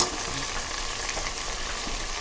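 Spices frying in a pan for duck khichuri, a dense, even close sizzle that holds steady throughout with faint stirring.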